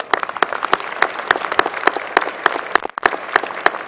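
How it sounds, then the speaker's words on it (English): Audience at an engineering school winter commencement ceremony applauds steadily, a dense, close burst of many hands clapping that continues throughout. "Give him a round of applause."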